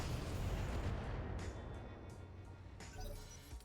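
Indirect weapons fire in the mech combat game BattleTech: a dense, rumbling barrage of booms and bursts rolls on continuously, with a few sharper impacts cutting through near the end.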